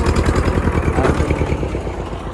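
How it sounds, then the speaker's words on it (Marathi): A tractor engine running in low gear while ploughing a field, a steady loud mid-pitched throb with an even chugging rhythm close by, no talk. "आणि लो टॉपमध्ये चालू राहिलं आपलं ट्रॅक्टर"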